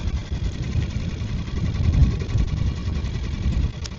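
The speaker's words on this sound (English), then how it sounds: "I'll keep the engine running because we're getting pushed away again." A small fishing boat's engine runs steadily at sea off the Isle of Man, a close, continuous low throbbing hum with slight swells and no speech.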